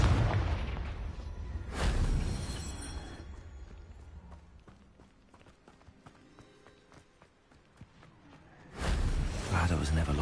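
Blasting-spell explosions in the video game Hogwarts Legacy, two loud booming bursts several seconds apart with a quieter stretch of scattered clatter and footsteps between them, game voices speaking over the action.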